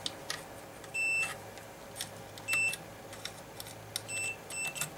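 Short electronic beeps sound while components of an old school Legacy Red Series 2 LA970 car amplifier are tested, several brief, fairly quiet tones repeating at intervals over faint background noise.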